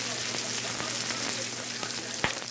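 Pancetta rendering its fat in a pan over low heat, giving a steady, soft sizzle with faint crackles and a sharper pop near the end.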